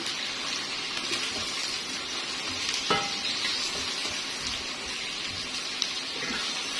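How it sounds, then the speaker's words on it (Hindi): Chicken legs fry hard in a karahi, a loud steady sizzle filling the clip, broken by an occasional clack of a spatula as the pieces are turned over. "ये इसके लेग को मैं बार बार ऊपर नीचे कर रही हूँ ताकि ये दोनों साइडों से अंदर से अच्छे से पक जाए।"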